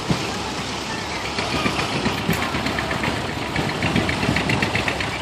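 Super 8 tractor engine running at a farm power parade, a steady rumbling idle with rapid knocking pulses, close and loud, with outdoor crowd noise around it.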